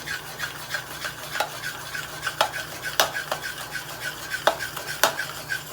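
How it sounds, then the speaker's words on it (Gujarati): A spoon stirs and mixes idada batter for the Gujarati snack, with scraping strokes against the vessel and sharp periodic clinks of the spoon on the rim, a steady close rhythm and no talk. "અને હવે મિક્સ કરીશું"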